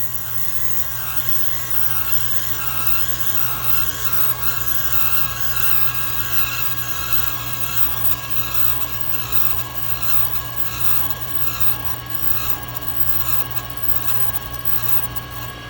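A valve grinding machine grinds a Mopar 360 engine valve, a continuous loud rasping whir with a steady motor hum, the stone traversed across the valve without pause.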